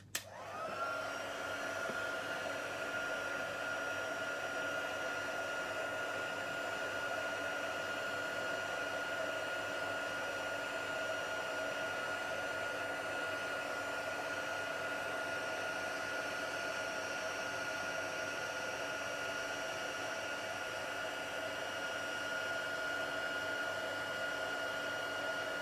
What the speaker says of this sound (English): So I'm just going to heat this up with the heat tool.